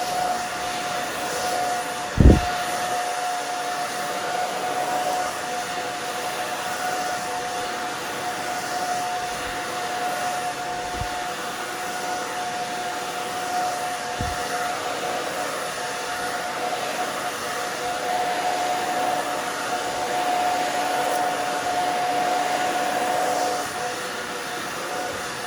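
A hair dryer blowing on a low setting while hair is dried upward for volume gives a steady, even whoosh that runs throughout, with a few faint bumps and no speech.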